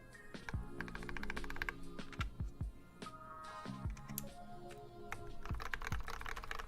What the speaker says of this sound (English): These are the best sounding keystrokes.